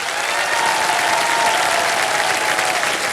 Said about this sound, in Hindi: तालियां बजती रहे मीनल के लिए।